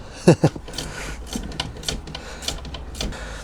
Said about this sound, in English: And we'll just tighten them up with my trusty Aldi socket set.